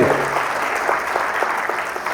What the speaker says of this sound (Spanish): Un aplauso para Gabo, por favor